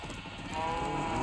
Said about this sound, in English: So I found some sheep and I rounded them up